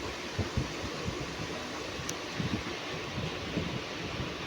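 Strong wind buffets the microphone aboard a MEMU passenger train pulling into Takipur halt: a loud, continuous close-up roar with irregular low thumps and no talking.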